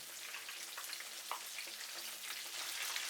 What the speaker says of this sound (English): Fry them for about 3 minutes on one side.